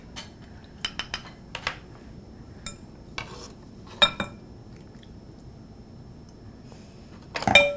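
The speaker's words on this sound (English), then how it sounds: "And add that dressing and mix it up." Salad tossed with dressing in a bowl, a string of sharp clinks and scrapes from utensils against the bowl with soft wet squishing between them, near and intermittent.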